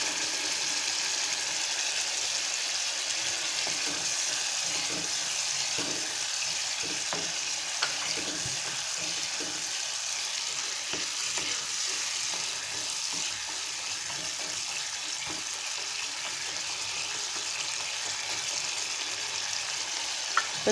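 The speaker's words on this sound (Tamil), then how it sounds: "இப்போ க்ரீன் பீஸும் டொமேட்டோ பியூரியோட கொஞ்சம் நல்லா வெந்து வரட்டும்." Green peas cook in tomato puree for a peas masala gravy, giving a long continuous bubbling sizzle with faint occasional stirring clicks, close and steady, with no talking.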